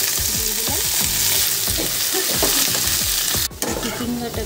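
Boiled snake gourd stirred and frying with onion in a hot pan, steady sizzling under repeated scraping strokes of a spatula, with a sharp clatter near the end.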